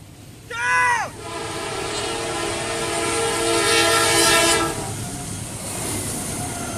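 A train sounds a brief loud horn blast, then rumbles steadily past a railroad crossing, the rolling noise swelling and fading over several seconds.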